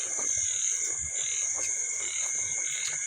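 Frogs croak steadily in a Thai rice-field setting, a dense chorus of repeated calls filling the background at moderate volume with a high insect-like drone overhead and no talking.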